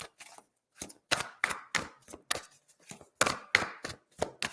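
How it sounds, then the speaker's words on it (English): A deck of playing cards is shuffled by hand in a series of quick riffling bursts, close and fairly quiet, with brief pauses between the clattering runs. "So I'll just throw them all back in and give it another good shuffle"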